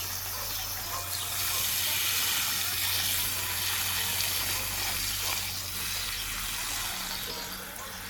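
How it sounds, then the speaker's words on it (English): Steady hissing spray of water from a hose watering garden plants and hanging baskets, continuous and fairly loud, with a low hum underneath. "Give it a good water, especially these dry out, these hanging baskets."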